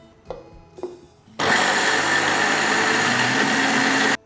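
A kitchen mixer grinder blends spinach dosa batter, starting after a couple of faint bumps and then roaring steadily and loudly at a constant pitch until it stops abruptly.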